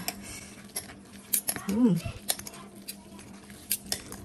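Noodles being stirred in a pot, with scattered close metallic clinks and scrapes of a utensil against the pot, sparse and irregular, and a short voice sound in the middle.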